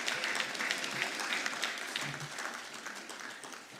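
An audience at a presentation of the 2022 Ghana Demographic and Health Survey key indicators report claps to welcome the chair, with steady applause that slowly fades over a few seconds.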